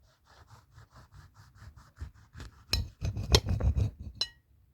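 A knife slicing through Butch-T chocolate scorpion chilli pods on a hard surface, with a run of soft rhythmic taps that give way to louder, sharper cuts and scrapes, close and with no talking.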